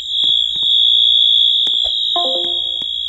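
A convenience store fire alarm horn in the Roblox video game sounds a continuous, piercing high tone that never breaks. Faint clicks and a brief voice-like sound occur beneath it.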